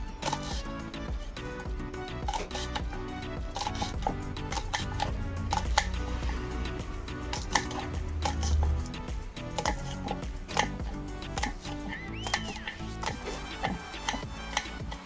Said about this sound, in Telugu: పచ్చిమిరపకాయలు నాలుగు తీసుకున్నాను చన్నంగా కట్ చేసుకోవాలి చిన్నగా సన్న కట్ చేసుకోవాలి